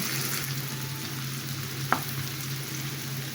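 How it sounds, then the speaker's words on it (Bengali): Sweet pumpkin slices fry in a pan with an even, continuous sizzle, and a single sharp click or tap stands out partway through. "অপর পিসটা আমি এভাবে ভেজে নিচ্ছি"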